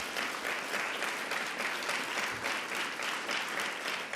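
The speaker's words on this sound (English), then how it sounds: "Can we give her another round of applause?" An audience applauds at a New York governor's event on Long Island, a steady, dense wash of many hands clapping that holds evenly at moderate loudness throughout, with no talk over it.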